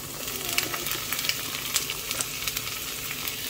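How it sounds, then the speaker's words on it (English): Okra frying in a pan of preheated olive oil, a steady bright sizzle dotted with small sharp pops and crackles, close and fairly soft, with no voices over it. "I got about a teaspoon of olive oil that I just preheated, and it is popping a little bit"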